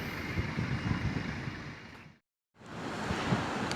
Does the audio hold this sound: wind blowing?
yes